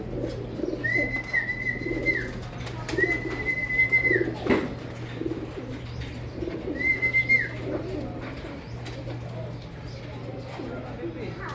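Three drawn-out pigeon coos sound at a moderate distance in a pigeon loft, while people talk quietly in the background.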